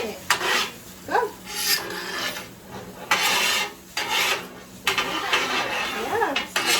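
A spatula scraping and rubbing against a pan as a boy cooks breakfast, loud repeated rasping strokes in an uneven back-and-forth rhythm with occasional clinks, with voices talking nearby.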